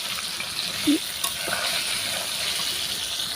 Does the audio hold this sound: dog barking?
no